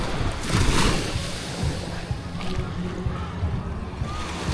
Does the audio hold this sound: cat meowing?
no